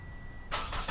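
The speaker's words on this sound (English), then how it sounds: "And our engine should start shortly." Push-to-start Toyota Camry engine turning over on remote start, a sudden broadband crank and catch about halfway through after a quiet lead-in, close and loud.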